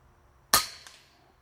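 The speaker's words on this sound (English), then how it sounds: "now we're going to shoot at that fresh hole" A single sharp, close crack from an FX King air rifle firing a pellet, with a brief faint echo tailing off after the shot.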